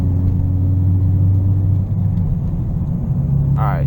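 Loud, steady engine drone and road rumble from an 8th-generation Honda Civic Si cruising with its muffler removed on a noisy road, a constant low hum running throughout with a brief whine near the end.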